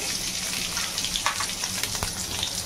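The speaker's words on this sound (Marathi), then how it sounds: "मिरच्या चांगल्या तुपामध्ये फ्राय करून घ्यायच्या आहे।" Cut green chillies sizzling in hot oil and ghee in a pan, a steady close crackle with scattered louder pops, no voices.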